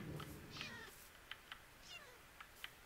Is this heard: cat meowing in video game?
yes